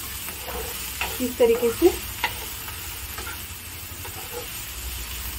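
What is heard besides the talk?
chilli thecha chutney being stirred and fried in a pan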